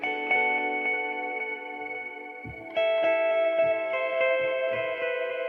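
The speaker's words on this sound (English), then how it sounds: "So this is actually the ambience at Air Studio that you're hearing." An orchestral sample library captured in the Air Studios room ambience, sustained string-like harmonic chords swelling with natural hall reverb, one chord shift midway, full and steady without voices.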